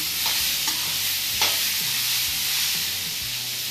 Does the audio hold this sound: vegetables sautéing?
yes